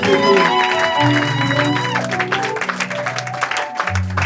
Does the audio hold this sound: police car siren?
no